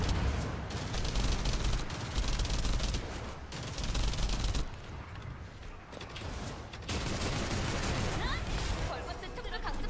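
Sustained automatic gunfire in The First Descendant, a shooter game, with rapid dense bursts that pause briefly and resume, loud and close, as game voices speak over it.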